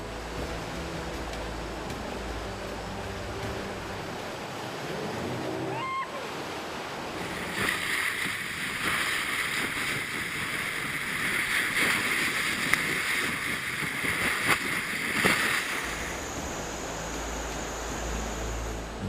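Boat running river rapids near Long Apari, Kalimantan: rushing, churning water throughout, swelling into a louder, hissing surge midway before easing, with a brief tonal sweep early on.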